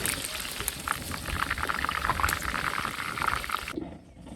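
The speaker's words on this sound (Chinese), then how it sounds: "加水，就这个" Water pours steadily into a cooking pot for braising pig trotters, a continuous splashing flow lasting several seconds before stopping abruptly, with no talk over it.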